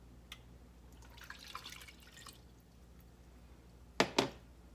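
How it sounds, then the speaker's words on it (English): Water is poured over cranberries in a kitchen, giving a trickling, splashy pour in the middle and then two sharp splashes close together near the end, over a low steady background hum. "I'm going to add our 2 cups of water."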